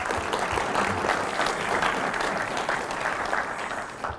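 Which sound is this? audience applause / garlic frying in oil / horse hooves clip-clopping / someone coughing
audience applause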